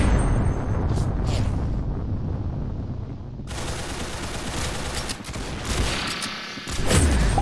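Rapid automatic gunfire from the Roblox Arsenal shooter game, dense and continuous bursts with sharp cracks layered over each other, loud and close throughout.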